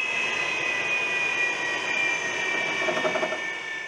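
An F-22 fighter jet engine roars steadily during testing, a loud continuous whine and rush with a high sustained tone running the whole time and no voices.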